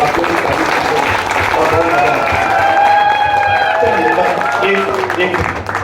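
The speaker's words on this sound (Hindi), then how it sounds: "एक बार जरा ताली बजाएं" An audience claps loudly and steadily in a hall during an online business platform presentation, the applause mixed with crowd noise and sustained tonal music or voices running underneath.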